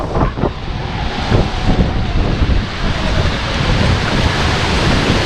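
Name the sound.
strong wind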